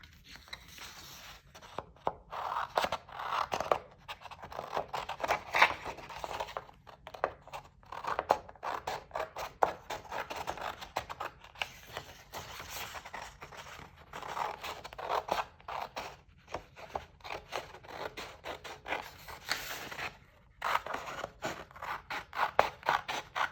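Scissors snip repeatedly through a paper journal page in quick, irregular bursts of crisp cuts with small pauses, close and clear, with no talking.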